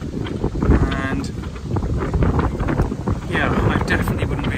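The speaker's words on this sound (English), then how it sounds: "it is so windy, so incredibly windy" Strong wind buffets a DIY plywood canoe on the River Thames, a continuous roaring rumble of gusts pummelling the microphone, rising and falling in waves.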